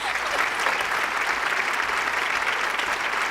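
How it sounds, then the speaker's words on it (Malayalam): Studio audience applause on a Malayalam TV game show, a steady dense wash of many hands clapping at close range, loud and continuous throughout with no voices over it. "എല്ലാവരും കൈയടിക്കണം"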